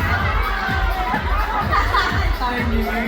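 A crowd at a fan event cheers and shouts with scattered clapping, a lively mix of raised voices and chatter that continues without a break.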